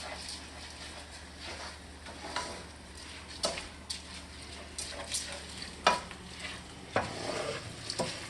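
A spoon stirs risotto rice cooking in wine in a pan for a creamy mushroom risotto, giving soft scrapes and occasional clinks over a low, steady sizzle, quiet and close.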